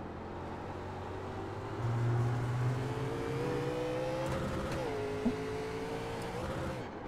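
A NASCAR Legends stock car in the iRacing sim at Watkins Glen holds a steady, droning engine note, then dips in pitch at one gear change into fourth. The motor keeps pulling hard throughout, loud and close.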